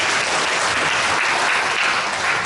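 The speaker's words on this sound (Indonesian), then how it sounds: "tepuk tangan." Church congregation at a Mass clapping for the singers and musicians, a dense, continuous burst of applause filling the room, loud and steady from start to finish.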